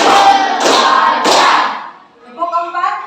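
A group claps three times in unison during a coaching session, three sharp, evenly spaced claps followed by a voice speaking.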